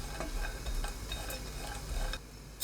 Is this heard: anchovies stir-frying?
yes